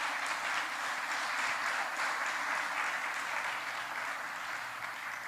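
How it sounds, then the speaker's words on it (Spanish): A church congregation applauds for several seconds during a service, a dense, even wash of clapping that holds steady and fades slightly at the end. "fuerte, si le van a dar el aplauso al Señor."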